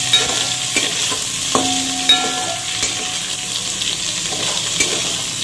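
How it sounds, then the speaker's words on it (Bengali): Chopped onions fry in hot oil in a Bengali kitchen, a continuous loud sizzle broken by repeated scraping and stirring strokes of a spoon against the pan. "পেঁয়াজটা একটু লাল লাল করে ভেজে নেব।"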